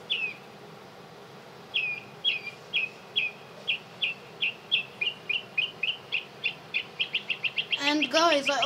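Pet birds chirping indoors, a steady series of short, bright chirps repeating at a quickening pace, building into a denser burst of song near the end.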